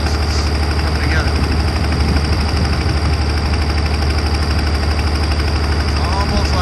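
M35A2 multifuel military truck engine running with a misfire, a loud, near, rough rumble whose exhaust pulses thump in an uneven, steady rhythm with no break.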